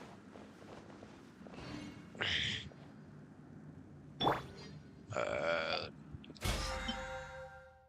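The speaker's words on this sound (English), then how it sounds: "That burp will come out in a few minutes." A Genshin Impact character lets out a burp in the game, one of several short, loud bursts that break up over a faint background bed of game sound.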